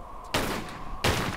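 Two loud revolver shots fired in the Tomb Raider video game, about 0.7 seconds apart, each a sharp crack with a short noisy tail and no talking.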